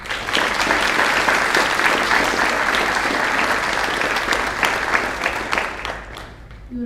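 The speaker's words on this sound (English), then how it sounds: "Please join me in thanking them with a round of applause" An audience at a National Junior Honor Society induction ceremony breaks into steady, dense applause that holds strong throughout before thinning slightly at the very end.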